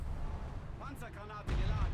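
A tank cannon fires in a video game: a sharp, heavy boom near the end that leaves a loud low rumble, after a stretch of steady low engine noise with a voice speaking briefly in the middle.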